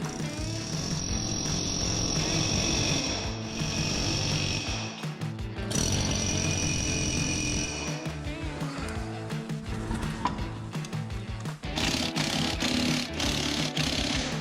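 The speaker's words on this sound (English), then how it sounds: "We're using an air hammer to install them." Continuous loud pneumatic hammering, an air hammer installing rivets, a rapid chattering tool running almost nonstop in a noisy workshop, with brief pauses between bursts.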